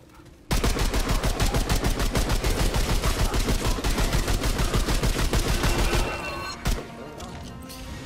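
Rapid automatic gunfire from Remnant 2 hammers in an even, close stream for several seconds, then breaks off into a few scattered shots and softer game noise.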